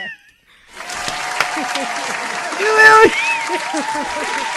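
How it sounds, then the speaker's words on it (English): A crowd of hands claps steadily in a dense, continuous patter for several seconds after a short pause, with voices and faint laughter mixed in underneath. "Give me the hand clap."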